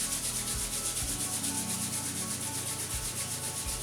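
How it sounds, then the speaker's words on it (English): Palms rubbing together briskly during a seated chair yoga warm-up, a steady close dry swishing friction that runs continuously without speech. "go ahead and rub your hands together."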